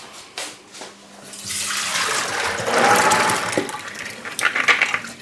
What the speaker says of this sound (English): So first you soak that overnight, and then you pour the water out.